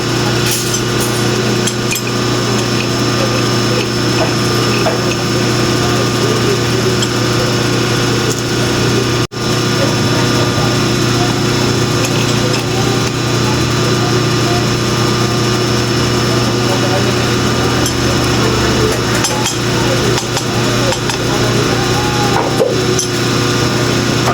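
A lathe machine threading a nut runs with a steady, loud motor drone and metallic whir throughout. A brief dip comes midway, with faint knocks under the continuous noise.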